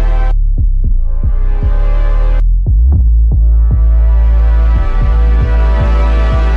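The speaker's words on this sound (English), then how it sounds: "And this together with the pad sounds like this." A low synth bass with pitch bends in both directions sits in a K-pop girl group track, gliding and pulsing under a rising, airy synth pad that swells in brightness. The mix is loud and close, with no speech.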